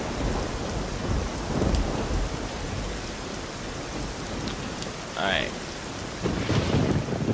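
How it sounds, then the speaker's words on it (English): Heavy rain hisses steadily during a thunderstorm, with low rumbles of thunder swelling and fading beneath the downpour. "I always think the lightning's gonna kill me"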